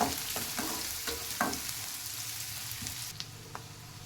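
Onions sauté in a pan for a drumstick leaves and egg stir-fry, a soft steady sizzle punctuated by scattered clinks and scrapes of stirring, fairly quiet with no voices.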